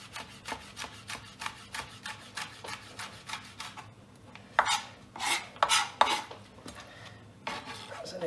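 A knife finely shreds red pepper on a board, a quick regular run of crisp chopping strokes followed after a brief pause by a few louder, scraping cuts, close up with no talking.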